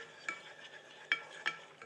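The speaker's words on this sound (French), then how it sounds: "Je mélange." Spoon stirring melting sugar for caramel in a pan, three sharp scraping strokes over a low steady sizzle, close and fairly quiet.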